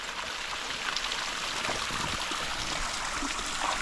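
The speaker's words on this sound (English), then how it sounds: "First little waterfall right here, y'all." A small waterfall in Cow Creek canyon, a steady broadband rush of falling water heard close and continuous, with no voices.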